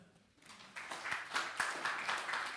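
Audience applause for a volunteer brought up at a French church gathering, faint at first, then swelling into steady scattered clapping from a room of people, with no voices over it.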